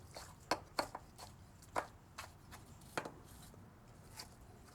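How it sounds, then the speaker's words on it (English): Jalapeno peppers chopped roughly with a knife on a cutting board, a handful of quiet, irregular knocks spaced across a few seconds against a faint background. "So I'm just going to chop these up roughly like this."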